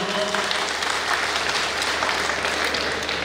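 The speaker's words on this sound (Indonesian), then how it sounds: "Boleh kita memberikan aplaus?" Audience applause at the Sentani city anniversary celebration: a steady wash of many hands clapping, even and sustained throughout, with a faint murmur of voices underneath.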